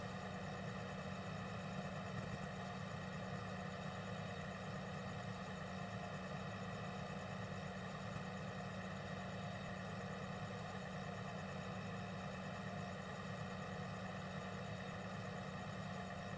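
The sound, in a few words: tractor engine idling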